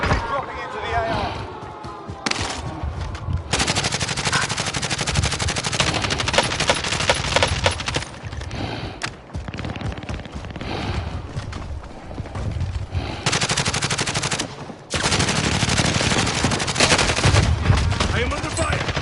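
Dense gunfire from Call of Duty Warzone, rapid automatic bursts and single shots rattling almost without pause for most of the stretch, loud and close, with brief lulls between volleys.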